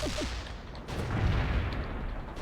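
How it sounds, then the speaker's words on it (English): Tank strike in the World in Conflict video game, a heavy, low rumble of gunfire and explosions with a swelling midpoint, the battle noise continuing without speech. "Tank strike is inbound."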